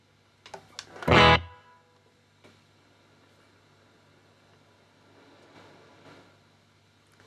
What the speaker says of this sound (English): Let's add a bit of reverb.